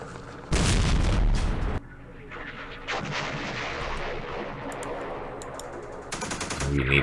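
Gunfire from guns in the Campaign Series Middle East war game: a loud, dense burst of heavy firing, then quieter rumbling booms in the background, and another sharp volley near the end.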